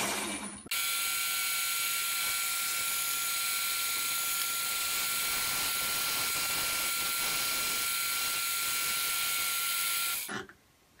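A rubber wheel for a trike spins on a lathe while a gouger parting tool cuts into it, giving a steady, loud, high mechanical whine and ratcheting chatter that runs unbroken for about ten seconds before stopping abruptly.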